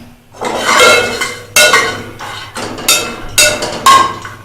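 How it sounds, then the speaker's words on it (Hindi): Peanuts dry-frying in a pan while being stirred for dry fruit chikki, a series of loud close metallic scrapes and clanks of utensil against pan, several distinct strokes without talk. "फ्राई पैन या देगची जिसमें भी बनाना चाहें उसमें आप उसको हल्का सा गरम करके ये इनको मूंगफली के दानों को उसमें थोड़ा सा फ्राई कर लें।"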